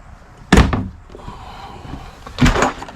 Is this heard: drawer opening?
yes